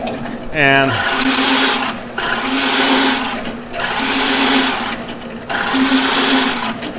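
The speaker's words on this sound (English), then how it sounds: "sometimes you got to stop the machine when you feel like it's not cutting very well" A machine saw cuts wood for a spinning top in three long, loud bursts with short pauses between, preceded by a brief falling motor whine as it winds up; the cutting is close and rough with a grinding, ratcheting texture.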